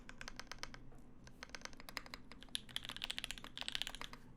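Rapid, steady keystrokes on a Percent Studio Skog prototype mechanical keyboard fitted with a GMK spacebar, the clicks close and crisp, with a few brighter, denser key bursts toward the end and no talking.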